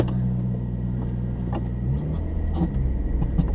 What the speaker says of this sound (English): Sport gives you that fast throttle response. Also gives you a louder exhaust.